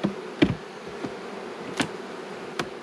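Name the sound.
honey bees buzzing on hive frames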